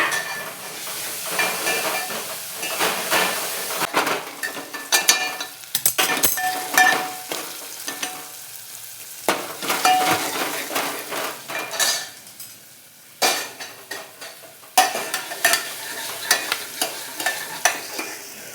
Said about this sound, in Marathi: हे आपण चिरलेले बारीक चिरलेले टोमॅटो हलवून घ्यायचं